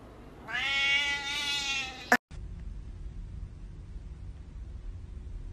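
A single drawn-out meow from a cat, clear and close, ends abruptly, followed by quiet background hiss.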